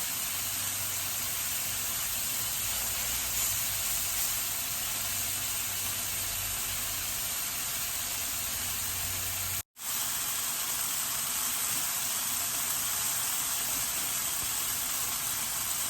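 Steady broadband sizzling and hiss of pork steak frying in a hot pan, continuous for the whole stretch with one brief dropout, no voices.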